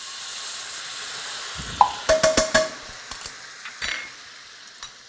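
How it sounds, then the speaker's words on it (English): Orange juice poured into a hot pan of softened ginger sets off a sudden hissing sizzle, followed by a quick run of metal utensil clinks and scrapes as the pan is stirred close by, with no talk. "Deglaze your pan with the orange juice."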